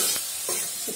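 Chickpeas (chana) tipped into a hot pan for a potato and pointed gourd dish, giving a steady close sizzle with a few soft stirring scrapes over one second, no voices.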